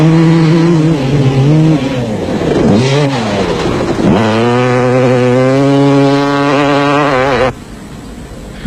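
A KTM off-road motorcycle races through dusty terrain, its engine loud and near, revving and shifting through rising and falling pitches before the sound cuts to a quieter background.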